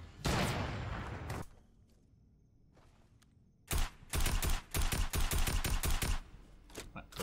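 Minigun fire in the Fortnite video game, a loud burst followed by a pause and then a long rapid stream of shots with short gaps between them.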